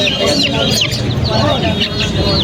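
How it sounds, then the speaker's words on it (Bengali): Young Aseel chicks, about a month and a half old, at a fancy poultry market cluck and chirp in a steady, busy chorus close by, with market chatter and voices running underneath. "আর পাশে আছে আসিলের বাচ্চা"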